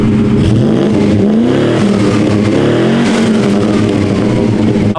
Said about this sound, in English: I promised you in another video that I was going to let you listen to this exhaust noise